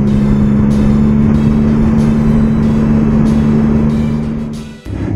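A Triumph Speed Triple 1050 motorcycle accelerates under load, its steady loud engine drone holding a strong low tone with wind rush over it, then briefly dipping near the end.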